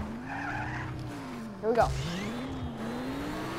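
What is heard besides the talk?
car driving and skidding over a jump in video game Just Cause 3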